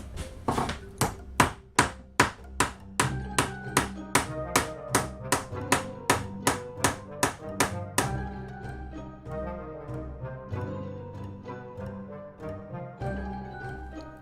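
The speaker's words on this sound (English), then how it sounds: "just drill a hole in a metal plate and pound your own whittled pegs through." A steady run of sharp, ringing hammer blows as wooden pegs are pounded through holes in a metal plate, evenly spaced, then a faster, lighter series of taps continuing to the end.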